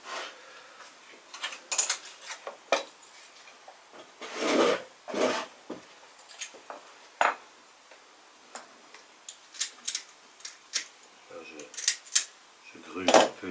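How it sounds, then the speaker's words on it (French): Grozing pliers nibble the corners of stained glass pieces, producing close, irregular gritty scrapes and crunchy rasps with short clicks between them in a quiet workshop. "Je gruge un peu les angles."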